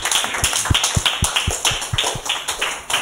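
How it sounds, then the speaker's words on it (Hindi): A church congregation at a Hindi-language sermon claps its hands loudly and rapidly, giving a dense, steady patter of close, sharp claps that runs the whole time, with no talk. "जोर से ताली बजाएं।"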